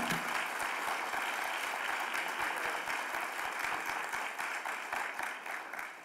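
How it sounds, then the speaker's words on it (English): A Capitol Hill audience at a Cesar Chavez event applauds Senator Robert Menendez, a dense, steady roar of many hands clapping, fairly distant and even, slowly tapering toward the end with no talking over it. "Give him a big round of applause"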